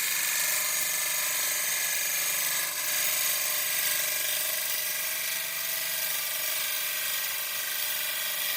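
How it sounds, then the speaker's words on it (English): Negative rake scraping on a pine burl bowl spinning on a lathe gives a steady, dense, high hiss and whine that stays continuous and even throughout, close and loud with no pauses or talk. "Here I'm just doing a little bit of negative rake scraping"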